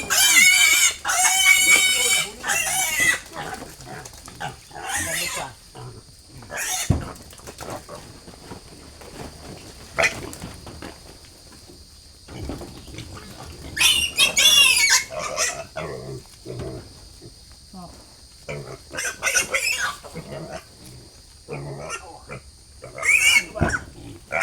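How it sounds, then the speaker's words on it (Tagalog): Piglets squeal loudly in bursts while being caught in a muddy, slippery pen, with chickens and a rooster calling in the background and people talking between the squeals. "Mahirap rin kasing hulihin itong ating mga alagang biik"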